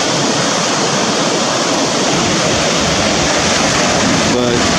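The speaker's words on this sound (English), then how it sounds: "And these are some surfer waves." Ocean surf waves breaking along a beach on an island: a loud, continuous roaring wash of water with no clear gaps, close and steady throughout.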